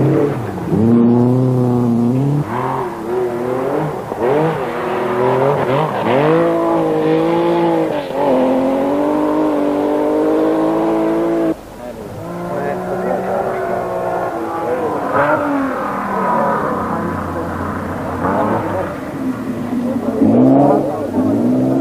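Rally cars race flat out at the 1973 1000 Lakes Rally in Finland, their engines revving high and sweeping up and down in pitch, continuous and close, with brief dips as the cars shift and pass.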